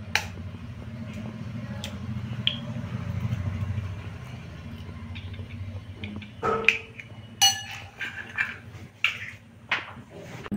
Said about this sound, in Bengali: একটা কাঁটা চামচ দিয়ে সুন্দর করে ফেটিয়ে নিচ্ছি।